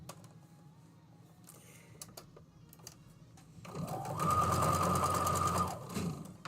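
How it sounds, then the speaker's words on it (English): A sewing machine stitches a tulip table runner piece, starting with faint scattered handling sounds, then running in a loud, steady whir for about three seconds before winding down. "So sew this last piece on here, and then we'll iron everything up."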